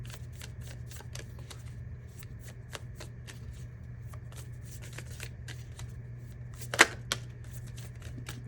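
Tarot cards riffled and shuffled by hand in a steady run of crisp, close flutters, with one sharper slap near the end over a low steady hum.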